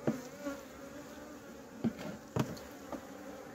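A steady hum of bees buzzing close by at a horizontal hive, with a few louder passes as individual insects fly near, no voices.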